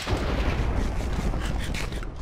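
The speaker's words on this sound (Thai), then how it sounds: "เสียงระเบิดอีหยังนั่น" Rumbling booms and blasts from Minecraft explosions fill the clip, a loud continuous roar with bursts of crackle and no talk.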